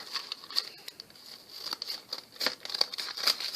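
Scissors trimming paper overhang while making a scrapbook storage book, a quiet run of crisp crinkling snips and small paper rustles close by, with no talking.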